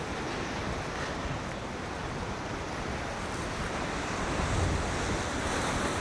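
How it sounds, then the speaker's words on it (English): Storm surf crashes heavily against a harbour's outer seawall in a steady, continuous roar, with gusty wind buffeting the microphone throughout. "Crashing over the harbour outer seawall there."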